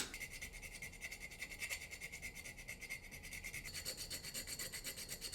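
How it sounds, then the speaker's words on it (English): Metal file rasping over a Ford hot rod race team hauler truck deck piece, steady repeated strokes close by, with a brighter, higher scrape in the last second and a half and no talking. "One piece, I'll do some filing on here too, try to get everything smoothed out"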